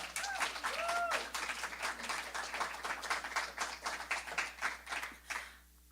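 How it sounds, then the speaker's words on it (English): An audience claps for a song at a spiritual center, giving dense, sustained applause for about five seconds. A brief vocal sound rises near the start, and the clapping fades out at the end. "Clap for the song."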